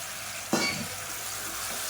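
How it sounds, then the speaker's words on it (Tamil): Eggplant, potato and fresh field beans tossed into a hot pan of oil, giving a sharp sizzling burst followed by a steady, close frying hiss. "இதை சேர்த்துட்டு நல்லா வதக்கி விட்டுக்கலாம்"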